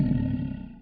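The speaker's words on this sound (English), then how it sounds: "if we hear the sound of a lion while we sleep, we're going to get up." A lion roars loud and close, a deep rumbling growl that fades over under a second.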